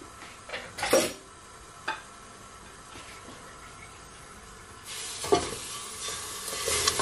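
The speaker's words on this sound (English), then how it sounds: "now I'm gonna add my peach." Peaches drop into a pot on a stove at medium heat for a peach cobbler, with a few clattering knocks and splashes over a low, steady cooking hiss and no talking.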